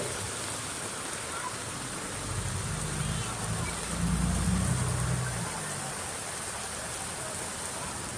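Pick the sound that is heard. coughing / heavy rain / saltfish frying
heavy rain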